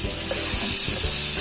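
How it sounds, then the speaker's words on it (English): Butter sizzles steadily as it heats in a pan, a close, loud, continuous hiss and crackle with faint utensil scrapes and no talk. "Heat the butter until boiling"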